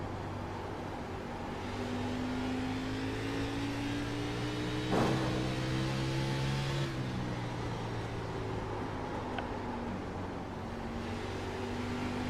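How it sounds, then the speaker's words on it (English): Race car in a sim racing game pulling out of the pit lane: a steady mid-pitched engine drone with gear-change pitch steps and a sharp transient midway, moderately loud and continuous with no talk. "There's a car leaving the pit lane."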